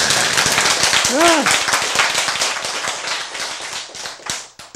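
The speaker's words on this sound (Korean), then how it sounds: "박수" An audience claps at a lecture on high blood pressure and arteriosclerosis, a dense burst of steady applause running throughout, with a brief voice heard near the start.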